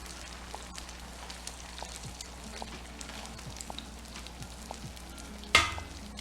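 Eggs fry on a Blackstone griddle with a soft steady sizzle and small pops, then one sharp clatter near the end.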